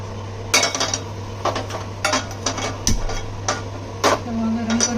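A metal tawa pan set down on a kitchen stove amid a series of sharp clanks and knocks of cookware, with a steady low hum from the gas burner underneath.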